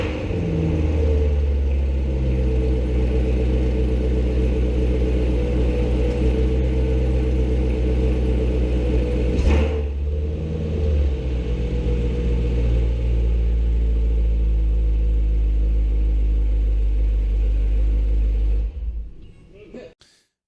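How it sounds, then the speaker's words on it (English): A car engine runs at a steady, deep idle, close and rumbling for about twenty seconds, with a brief bump in the middle, then cuts off and falls silent. "Then you're going to want to fire the car up and ensure that everything works and there's no errors on the dashboard."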